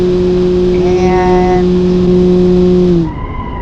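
A car's engine screams at its limit at top speed in the BeamNG.Drive driving game, a loud steady high-pitched whine that holds for about three seconds, then drops sharply as the car brakes hard.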